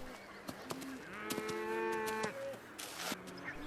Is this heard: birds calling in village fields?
no